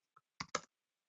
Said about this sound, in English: continue typing them.